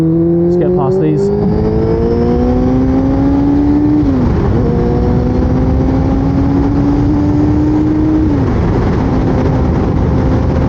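A motorcycle accelerates hard on a sunny ride using clutchless upshifts. The close, loud engine note climbs steadily, drops sharply at each of two quick gear changes, then climbs again under heavy wind noise.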